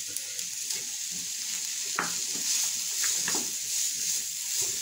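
Tomatoes with masala stirred and cooking in a pan, a steady close sizzle with scraping spoon strokes against the metal, no talking.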